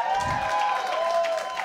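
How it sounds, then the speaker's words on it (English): A crowd at a live esports event, an IPL 5 final between Fnatic and another team, cheering and applauding steadily for a moment, with a broad roar of many voices close and loud throughout. "Let's hear from the crowd if you think Fnatic has a chance of coming back in this series."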